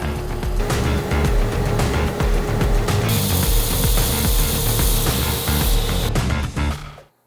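Power drill boring a hole into a wooden knife handle, a loud steady whirring grind with a constant motor tone, shifting to a brighter, harsher whine partway through before spinning down and stopping.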